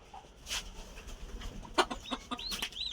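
A chicken on a farm clucks in short, scattered bursts, some with rising squawky notes, heard close but fairly quiet over a soft outdoor background.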